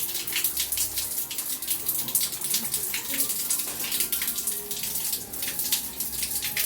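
Water runs steadily and fairly loudly from a tap while hair ends are rinsed of shampoo, a continuous splashing gush with no talking over it.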